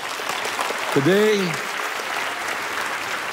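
A church congregation applauds in praise during a service, a steady wash of clapping running throughout while a voice briefly speaks over it.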